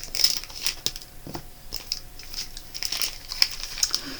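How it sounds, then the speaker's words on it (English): Scissors snipping open a small plastic baggie of wooden beads, with crisp crinkling of thin plastic and a few sharp cuts and rustles close up, no talking. "Get my scissors out here so I can open the little baggie."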